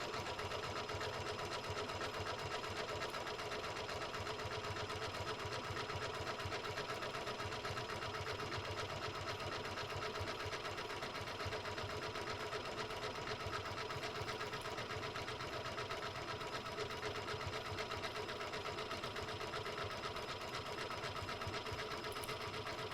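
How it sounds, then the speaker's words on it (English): A sewing machine hums continuously at a slow, even pace while sewing decorative stitches along a fabric strip, a steady mechanical whir with no pauses. "Anytime you're sewing with decorative stitches, it's a good idea to sew on the slower side."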